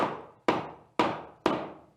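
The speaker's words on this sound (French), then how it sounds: "Et vous tapez dessus." Hammer blows knocking recycled plastic building bricks into place, four crisp, close taps at a steady half-second rhythm, each with a short ringing decay, no voices.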